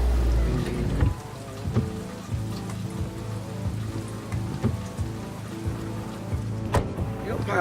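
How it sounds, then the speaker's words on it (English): Steady rain falls and patters on a surface, close and continuous, with scattered heavier drops and a faint low rumble underneath. "It started raining."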